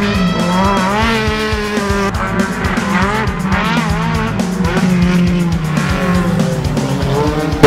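Race cars at a Catarinense motor racing round in Mafra roar loudly and continuously, engines rising and falling through gear changes as they fight side by side through an overtake, with tire squeal mixed in.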